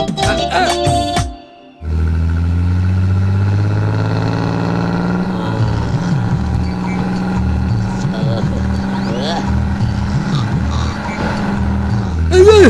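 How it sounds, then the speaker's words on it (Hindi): A bus engine drones steadily at low pitch, rising and falling through gear changes, with people talking over it inside the cabin. "बस चला रहा है या ट्रैक्टर चला रहा है?"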